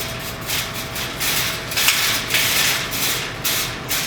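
Wire brush scrubbing a freshly TIG-welded joint, loud rhythmic rasping strokes in quick back-and-forth bursts, close up with no talking.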